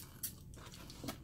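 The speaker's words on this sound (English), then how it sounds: "I know y'all hear that crunch." Crunchy shrimp chewed up close during a Chinese food meal, giving a few loud, crisp crunching bites in brief bursts.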